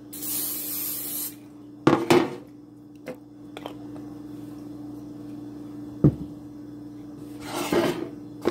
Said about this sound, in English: I'm going to go ahead and spray my pan with